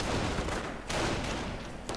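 Dense gunfire rattles through a World War II strategy video game battle, a sustained, steady roar of overlapping rifle and machine-gun shots with one brief break, fairly loud and without speech.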